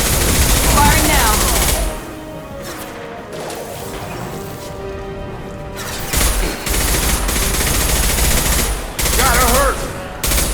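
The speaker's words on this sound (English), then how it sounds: "Firing now." Loud, dense automatic gunfire from the video game Mass Effect 2 Legendary Edition, sustained bursts with short breaks and crashing impacts, with voices mixed into the battle.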